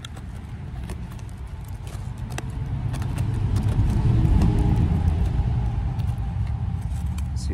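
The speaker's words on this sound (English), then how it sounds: "Some loud trucks driving by." Loud trucks rumble past at a dump, a heavy low engine drone that swells toward the middle and stays steady, with scattered clanks and rattles on top.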